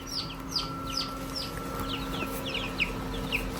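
A tub full of newly hatched chicks keeps up a constant chorus of shrill peeps and cheeps, many birds calling at once nearby over a low steady hum.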